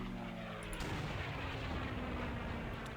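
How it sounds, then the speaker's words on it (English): Artillery shot and explosion in the iPad war game Plastic Soldiers: a sharp onset near the start gives way to a sustained, loud rumbling blast that fills the rest of the moment, with no voices over it. "Fire it, it explodes."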